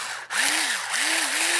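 An Ozeri Savore electric pepper mill grinds peppercorns on a medium setting, making a loud, close, buzzing motor whir with a gritty crunch whose pitch wavers in repeated rising and falling swells, after a brief dip at the start.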